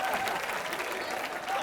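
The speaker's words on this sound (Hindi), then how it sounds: "आज जोरदार तालियां हो जाएं।" Studio audience applause on a Hindi entertainment talk show, a dense, steady wash of clapping at moderate loudness filling the whole moment without a break.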